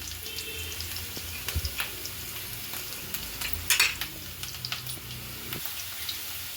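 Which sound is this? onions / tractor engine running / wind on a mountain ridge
onions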